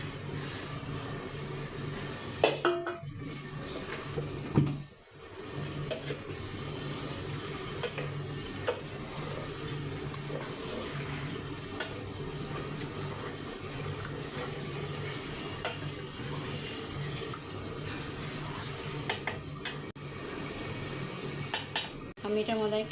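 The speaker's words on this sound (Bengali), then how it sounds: "চাল কুমড়া আর ডালটা যে সিদ্ধ করে রাখছিলাম এই মশলাতে ছেড়ে দেবো এখন" Boiled wax gourd and lentils go into a pan of hot spice mix and are stirred, giving a continuous soft sizzle with scraping and a few clanks of utensil on pot.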